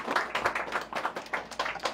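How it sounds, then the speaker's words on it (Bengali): Scattered audience clapping at a Bangladeshi political party gathering, a ragged run of hand claps in uneven bursts from a small indoor crowd, fairly close and moderately loud. "সামাদ ভাই একটু সবাই একটু হাততালি দিয়ে গ্রহণ করে নেবেন।"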